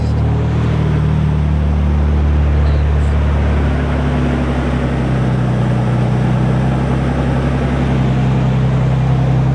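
Loud, steady idle of a 2011 Toyota Tacoma engine with a modified exhaust, a deep, continuous rumble heard close up throughout with no talking.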